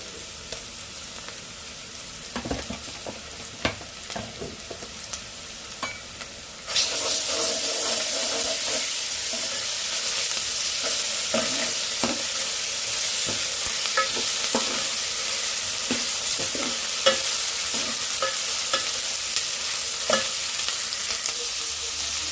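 Ginger frying in a pan for a ridge gourd and egg curry, quiet scraping at first, then a sudden loud steady sizzle with intermittent spatula stirs and clinks, close and without talk.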